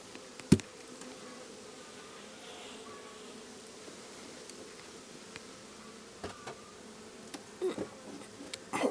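A low, steady drone of many honey bees buzzing close by at a hive, with occasional sharp clicks and knocks scattered through.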